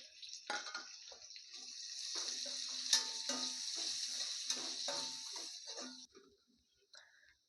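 Sliced big onions dropping into hot oil for Tamil chicken varuval, crackling and sizzling steadily in the pan, moderately loud, then dying away abruptly near the end.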